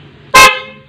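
A Bajaj CT 100 motorcycle horn gives one loud, bright honk of about a fifth of a second, close by, then rings out briefly over a faint low hum.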